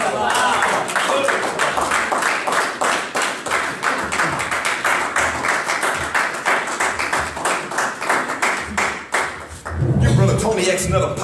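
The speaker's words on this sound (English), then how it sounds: "another powerful round of applause" An audience at a religious gathering breaks into loud, sustained applause, a dense rhythmic mass of sharp claps that carries on steadily for several seconds before fading, with voices and cheering mixed in toward the end.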